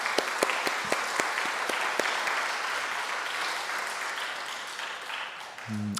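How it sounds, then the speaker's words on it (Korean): A church congregation applauds for fathers on Father's Day during a Sunday service, a few sharp opening claps swelling into a sustained, moderately loud round that gradually thins toward the end. "우리 힘찬 박수하겠습니다"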